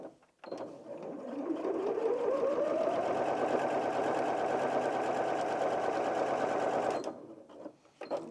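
Janome M50 QDC sewing machine running steadily through four layers of fabric, a continuous close mechanical whirr that ramps up at the start and holds for about six seconds before stopping.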